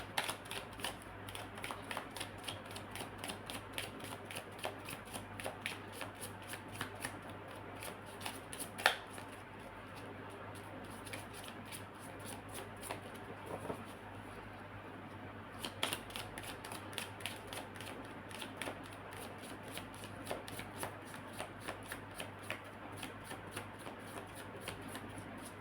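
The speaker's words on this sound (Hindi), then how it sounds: "माय लास्ट शफल, क्या कोई और कार्ड आना चाहता है?" Tarot cards being shuffled by hand, a steady run of crisp riffling flicks and soft slaps close by with no voices, repeating in bursts for the full stretch.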